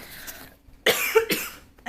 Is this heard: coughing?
yes